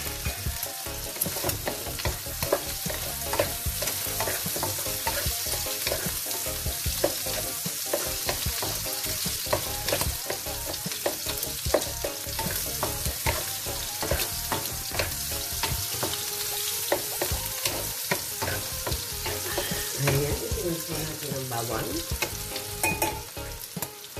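Onions and garlic sauté in a pan for a Filipino mung bean stew. A loud, close sizzle runs under constant rhythmic scraping and stirring of a spatula, with no talking.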